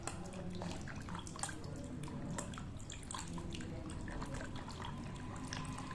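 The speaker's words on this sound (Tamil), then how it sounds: "தண்ணி தாராளமாக ஊற்றிடணும்." Water is poured generously over chopped banana stem pieces in a vessel to wash off the fibres, making a steady splashing and trickling with scattered drips, fairly quiet and without talk.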